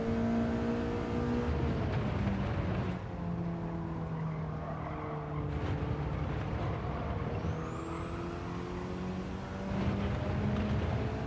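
Racing cars in Gran Turismo 7, including a Mitsubishi at the Red Bull Ring, drone through a steady engine note that swells and eases with the throttle. A faint tyre squeal rises near the end, and no one talks.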